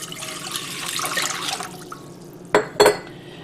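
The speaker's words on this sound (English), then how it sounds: "I'm going to add the water" Water pours into a heavy-bottomed saucepan on a stovetop burner for a cranberry ice recipe, a splashy running stream that fades, followed by two sharp clinks of the pan or utensil.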